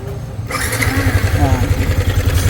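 A Yamaha Sniper 155 motorcycle engine with a noisy tensioner sputters to life and settles into a fast, buzzy idle close by, with a voice speaking over it.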